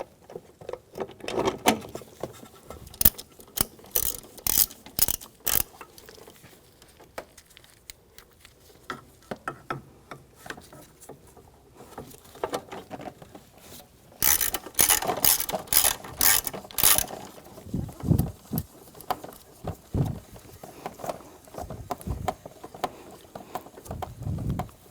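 A ratchet tightens bolts behind the airbox of a 2010-2014 Volkswagen GTI, with short bursts of rapid clicking separated by pauses, loud and close.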